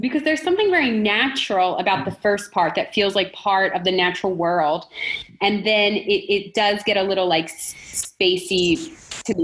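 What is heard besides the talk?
None of the usual background noises is heard.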